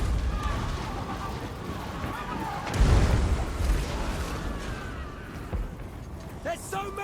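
Artillery fires in a Warhammer multiplayer battle, with a heavy boom partway through followed by rumbling impacts and scattered battlefield clatter, all beneath a continuous bed of game noise.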